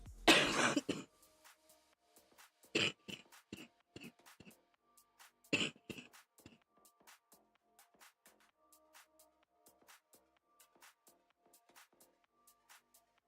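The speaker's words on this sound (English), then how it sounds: "Oh, I hate that cough." A single harsh cough bursts out at the start, followed by quieter throat-clearing and faint clicks spread across the rest of the clip.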